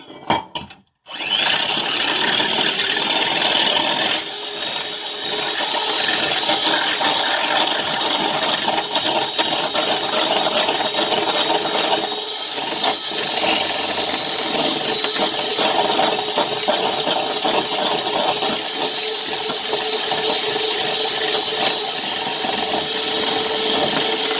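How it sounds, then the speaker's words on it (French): Electric hand beater whipping egg whites for île flottante, a loud continuous whirring drone that starts after a short clatter and runs for over twenty seconds, with slight shifts as the beaters move through the bowl. "Si vous avez une plus grosse quantité, vous le faites au batteur. Ça va faire un peu de bruit"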